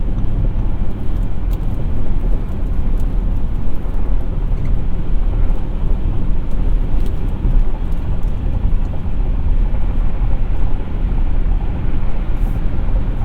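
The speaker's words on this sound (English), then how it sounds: "This 2-liter turbo has plenty of grunt for getting up to speed." A 2021 Audi Q5 with a 2-liter turbo engine pulls up to highway speed, a steady, loud broadband drone of engine and road noise holding level throughout with no pauses.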